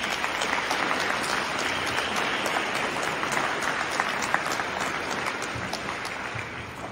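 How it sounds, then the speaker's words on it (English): Sustained round of applause from an audience after a speech for an arts organization, dense steady clapping throughout at even loudness with no talking over it. "I think we should give ourselves a round of applause for that."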